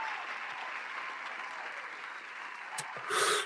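Audience applause on a podcast, a steady, moderately faint wash of clapping that continues for a few seconds, with a brief louder burst of noise at the end.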